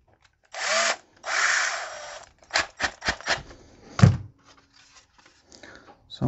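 Short bursts of a small power drill with a very thin bit whirring in spurts, drilling a pilot hole in a Multicar M24/M25 instrument panel, with clicks and a thunk between runs, close up in a quiet room.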